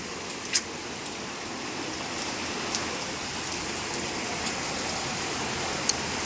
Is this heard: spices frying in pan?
no